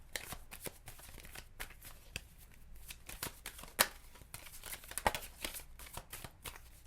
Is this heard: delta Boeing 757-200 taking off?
no